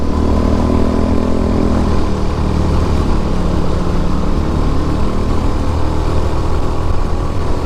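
A motorcycle engine drones loudly and steadily while climbing a steep mountain road at Marilaque Devils Corner, close-up with wind and engine noise filling the sound and no talk.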